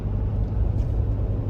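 A 2022 Toyota Tundra pickup on 35-inch tires rolls onto a freeway, heard from inside the cab as a loud, steady low rumble of engine and road noise with no talking.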